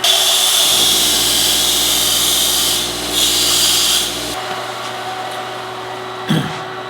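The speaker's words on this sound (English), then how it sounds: "gonna have to sharpen that one" A tungsten welding electrode is ground to a point on a spinning wheel, a loud, steady grinding rasp that stops partway through and leaves a brief knock and quieter noise afterward.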